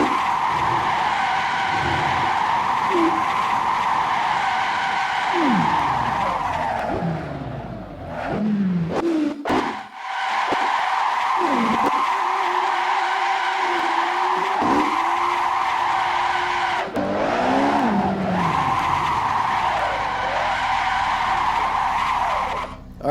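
Tires skidding in the Assetto Corsa racing game. A race car screeches in long, sustained squeals under steady engine drone, with brief breaks and shifting pitch as it slides through corners.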